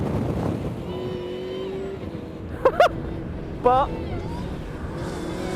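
Ariel Atom 3.5R open-cockpit racing car driving on a wet track in the rain, its engine a steady loud drone with brief rising revs, alongside someone speaking.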